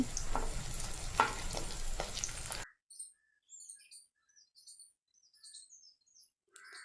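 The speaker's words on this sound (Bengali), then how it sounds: "আর এক পিট আমি লালচে করে ভেজে নিচ্ছি" Steady crackling sizzle of sago pakoras frying in oil for a few seconds, then it cuts off, leaving faint, scattered bird chirps in quiet.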